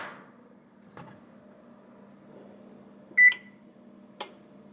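An oven's control panel chirps as it is set to preheat to 425 degrees, a single clear electronic beep followed by a short click, with faint kitchen knocks and a low hum in a quiet room.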